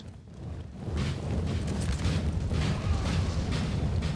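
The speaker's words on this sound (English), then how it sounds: "Looks like my artillery set up, and they are firing now." Artillery cannons fire in a Napoleon Total War 3 Salamanca battle, a dense layer of distant booms and rumbling over continuous battlefield noise, fairly quiet and steady throughout.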